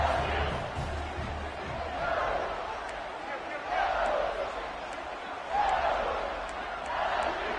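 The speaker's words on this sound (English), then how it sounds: "for an entire game, they are on their feet, yelling, screaming" Loud stadium crowd roaring and screaming in NCAA 26 college football game, a continuous dense wall of noise swelling in waves every couple of seconds.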